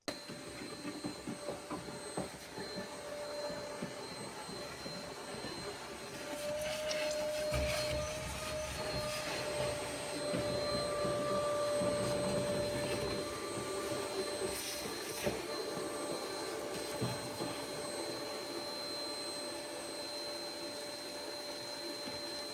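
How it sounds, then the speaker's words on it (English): A vacuum cleaner runs steadily while sucking up rat droppings inside a 1981 Jeep Wagoneer Limited, a continuous whining drone that grows louder and harsher midway as the nozzle moves around, with no voices. "vacuumed up as much rat poop as possible."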